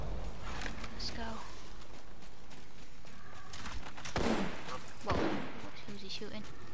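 Gunfire in the video game Apex Legends, a few sharp bursts and shots under talk from players, moderately loud against game noise.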